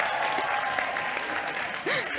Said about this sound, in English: can we give a round of applause for Rosh?